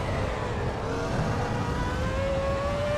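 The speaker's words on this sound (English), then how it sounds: "the sound of this car, any person that likes cars appreciates the Ferrari 2004 sound" A Ferrari 2004 race car engine in a driving video game drones steadily, its tone rising slowly in pitch as it accelerates, loud and continuous with no voices.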